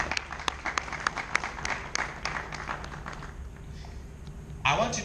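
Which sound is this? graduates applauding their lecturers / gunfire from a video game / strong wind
graduates applauding their lecturers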